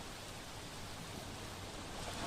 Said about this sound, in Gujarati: આજે વહેલી સવારથી જ વરસાદ ડાંગમાં થઈ રહ્યો છે।